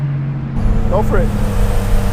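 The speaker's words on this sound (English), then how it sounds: "I love the sound of that blow off, man." A turbocharged Buick Grand National's blow-off valve lets out a brief, sharp hissing whoosh over the steady low rumble of its idling engine, heard up close.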